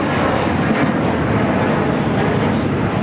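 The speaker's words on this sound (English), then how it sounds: "The 777 now going from taxiway Bravo to Charlie." Boeing 777 taxiing at LAX makes a steady, moderately loud engine whine and rumble, unbroken and heard alone.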